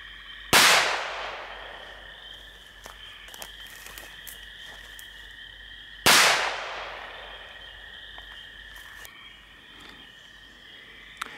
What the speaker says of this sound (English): next up we got the Bunker Buster crackers